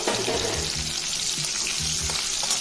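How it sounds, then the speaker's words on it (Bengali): Chopped onions frying in a pan with bay leaf, dried red chilli and cumin, a steady broadband sizzle with faint stirring scrapes, continuous and close throughout. "এরপর পেঁয়াজ কুচি দিয়ে দিলাম পেঁয়াজটাকে একটু লাল করে ভাজবো"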